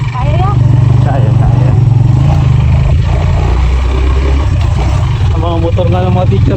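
Motorcycles belonging to teachers at a school in Quezon Province run close and loud, their engines droning steadily beneath ongoing conversation.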